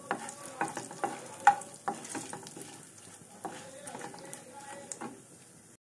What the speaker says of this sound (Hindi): और इस टाइम ही हम इसमें जीरा ऐड कर देंगे 1 चम्मच, और जीरे को भी साथ साथ ही भून लेंगे।